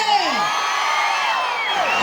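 A crowd at a musical night show during the Venkatagiri fair shouts, whoops and cheers loudly. Many overlapping voices give sliding high cries that merge into a continuous roar.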